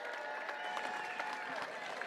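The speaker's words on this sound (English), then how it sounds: "Give everybody a round of applause." A crowd applauds at a livestock auction, a dense, steady clatter of many hands clapping together for the full stretch, fairly loud and even with no talk over it.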